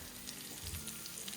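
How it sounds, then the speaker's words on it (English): Cauliflower steaks for keto cauliflower parmesan sizzling hot from the oven, a faint, steady crackling hiss with tiny popping specks, soft and continuous throughout. "Ooh, you can hear that sizzle."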